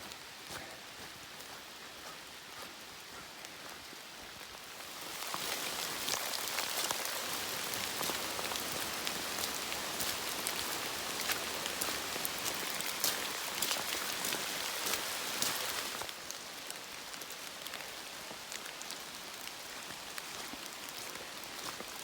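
Light rain patters steadily on a forest during a hike in Lake Lurleen State Park, Alabama, a soft continuous hiss that swells a little heavier midway and then eases back, with no voices.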